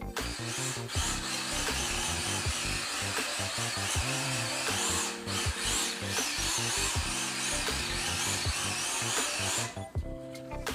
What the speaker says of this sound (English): Got a little brushless, little D12 going right here.